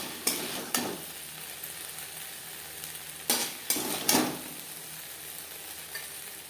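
Okra stir-fried in a pan on high flame, a soft steady sizzle broken by several sharp scraping stirs of a spatula against the pan, fairly quiet and close.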